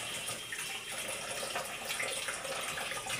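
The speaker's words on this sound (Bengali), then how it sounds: "ওই যে মাংসটি ধুই একটু" Meat washed under a running kitchen tap, a steady close gush of water splashing over it.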